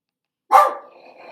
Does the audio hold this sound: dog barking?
yes